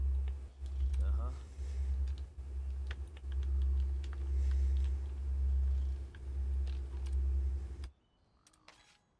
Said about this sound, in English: Still typing.